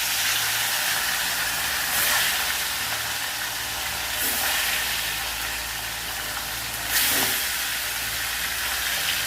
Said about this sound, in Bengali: তেলটা গরম হয়ে গেছে, এবার আমি মাছগুলোকে ভেজে নেব।